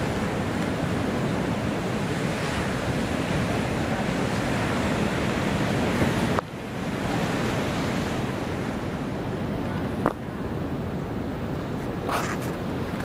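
Storm surge on the coast at Augusta, a continuous roar of heavy surf and wind buffeting the microphone, loud and unbroken throughout.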